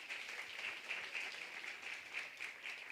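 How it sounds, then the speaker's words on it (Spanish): Faint, steady applause from a congregation at a church service, a continuous soft wash of many hands clapping in a reverberant room. "Un aplauso para Yair."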